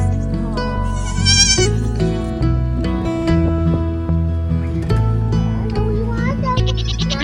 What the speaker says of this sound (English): We have a baby goat.